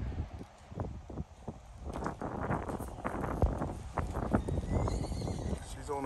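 A large horse being ridden outdoors, its hooves clip-clopping in a steady walking rhythm close by, with wind and rustling in the background and a person talking over it.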